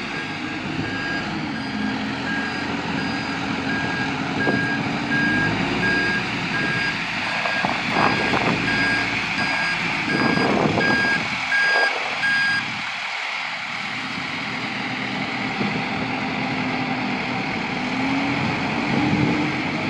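A 2007 Caterpillar TL943 telehandler crab-steers side to side: a steady diesel engine drone with a loud, regularly repeating reversing beep throughout, close by.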